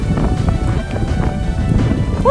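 Loud, steady low buffeting roars across the microphone throughout, like strong wind gusting directly into it.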